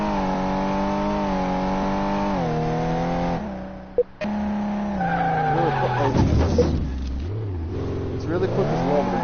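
Mercedes car in Car Mechanic Simulator 2018 on race tires, a loud sustained engine drone with rising and falling revs, a brief cut, then skidding tire squeals over a person talking.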